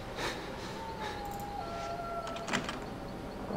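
A door opening in the Outlast video game, a soft mechanical sliding sound with a drawn-out whining tone and a few clicks and a knock near the end, moderately quiet with no voices.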